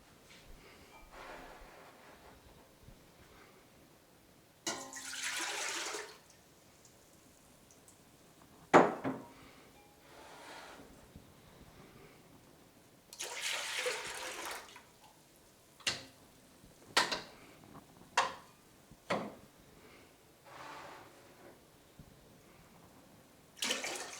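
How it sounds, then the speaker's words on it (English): A grape wine mixture is poured back into a pot in several sloshing splashes, with drips, wet glugs and the knock of a container against the pot between pours. "I'm just going to put everything back in the pot so I can mix it up real well."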